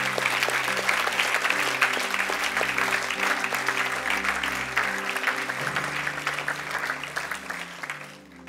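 A church congregation applauds and acclaims, a dense and steady clapping that carries on for several seconds over sustained organ or keyboard chords, fading slightly at the end.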